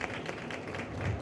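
An audience applauds at a Brazilian panel event on the future of food, with steady, dense clapping filling the room and holding an even level throughout the short burst.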